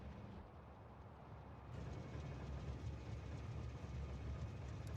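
A train rolls along in the factory-building game Factorio, a steady low rumble that swells louder partway through and holds on as a continuous mechanical drone with no talk.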